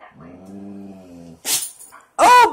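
Pet dogs growl low and steady for about a second, then give a short sharp bark and a higher yelp, close and loud with brief gaps between the sounds.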